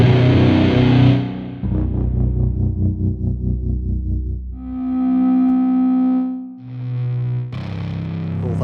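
Long, heavy distorted electric guitar sample from the Detonator Rage plugin, sustained chords ringing out and decaying, followed by further held distorted notes and a final chord, loud and close with no talking.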